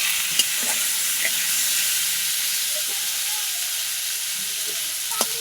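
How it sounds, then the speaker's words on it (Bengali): Pieces of cut rohu fish frying with tomato and meat spices in a pan, a steady broad sizzle and hiss throughout with a few faint stirring clinks. "মাছ দিয়ে দিয়েছি, কষা হচ্ছে মশলার সঙ্গে।"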